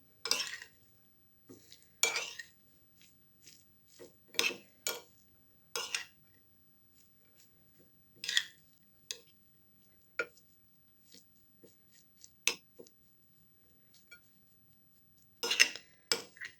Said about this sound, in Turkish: İki tatlı kaşığı tuzumuzu da ekledikten sonra şöyle güzelce bir karıştıralım